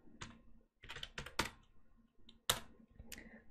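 Keys on a computer keyboard are typed nearby in short irregular bursts of crisp clicks, with brief pauses between them in an otherwise quiet room.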